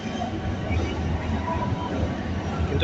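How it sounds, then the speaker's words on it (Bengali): A delayed 8:50 local train pulling out of Howrah station toward Khirai gives a steady, loud rumble of rolling carriages and rail noise throughout, with no clear voices over it. "ট্রেন এখন ছেড়ে দিল হাওড়া স্টেশন থেকে"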